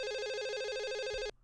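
A telephone ringback tone heard after dialing a call, a steady electronic ring that holds for over a second and cuts off sharply, with no talking.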